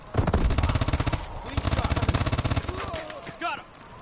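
Rapid automatic gunfire in Call of Duty, dense close bursts of shots in two long runs, trailing off into a few scattered sounds at the end.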